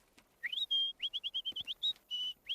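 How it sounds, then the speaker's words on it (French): A small bird sings alone, bright whistled notes in a quick run of short rising chirps, then a few longer held tones, close and clear against a quiet background. "il n'y a rien de mieux que le chant d'un délicieux petit oiseau charmant"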